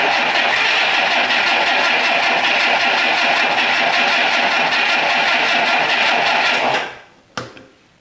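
An abandoned 1962 AMC Rambler engine runs loud and rough for about seven seconds, then abruptly cuts out, leaving a brief clunk and near silence.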